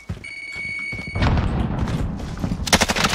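A frag grenade explodes in Call of Duty Warzone, a heavy boom that follows a steady tonal beep and rumbles on with scattered crackling and sharp bursts near the end.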